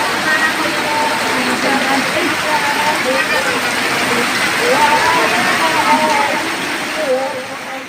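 Heavy rain with strong wind, a steady loud hiss of rain falling on surfaces outdoors, continuous throughout with some voices talking faintly beneath it.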